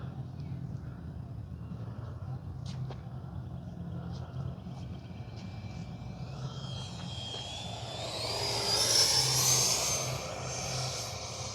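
A HobbyKing FlyCat V2 RC jet plane flies overhead on a hot day, its faint whine building into a louder, rising and falling pass in the final seconds over low steady background noise.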